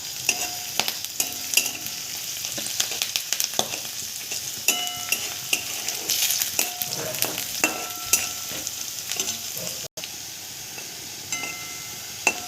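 Curry leaves and onion fry in hot oil for kanda poha while a utensil stirs and scrapes the pan in frequent sharp clinks over a constant close sizzle, with a brief break near the end; nobody speaks.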